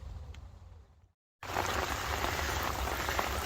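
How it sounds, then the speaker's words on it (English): Heavy rain falls in a steady, dense hiss of drops on surfaces, briefly cutting to silence before returning louder and continuing unbroken. "the rain is still going strong"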